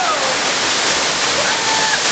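Water cascades pour onto riders of an amusement park water ride at Parc Astérix, a loud, continuous rushing splash that fills the whole moment, with excited voices in the background.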